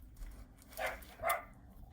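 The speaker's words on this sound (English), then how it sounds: "Sorry, dog's barking." A dog barks twice somewhere in the background, faint and muffled, with the two yips about half a second apart over a quiet room hum.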